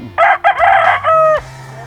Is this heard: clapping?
no